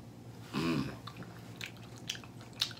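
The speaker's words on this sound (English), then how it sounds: "Can you stop chewing like that?" Loud, close chewing of food during a blindfolded taste challenge, a wet squishy bite burst near the start followed by softer smacking and crunching ticks, with no voices over it.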